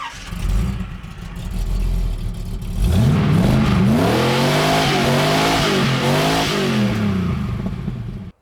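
A Toyota FJ40 Land Cruiser with a small block V8 running extractors into a 3-inch exhaust idles low, then revs hard in repeated rising and falling bursts, loud and close.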